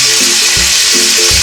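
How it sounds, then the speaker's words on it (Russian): Loud, close sizzling of meat frying in a hot pan for borscht, a continuous crackling hiss with no talking. "Мясо пусть у нас пока жарится."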